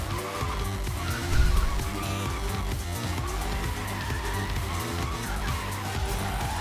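A car in the racing game Forza Horizon 3 oversteers and skids, tires squealing over a continuous engine roar at steady loudness.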